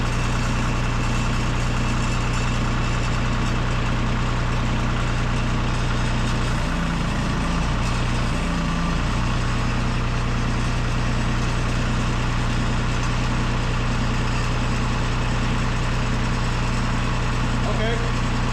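An old John Deere tractor engine idles loud and steady throughout, a continuous low rumble with a brief wavering dip in the middle, close to the listener.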